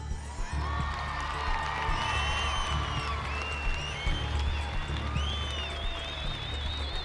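An audience at the Sharjah nasheed singing competition applauds the third-place winner with sustained clapping, mixed with cheers, whoops and whistle-like cries rising over the crowd.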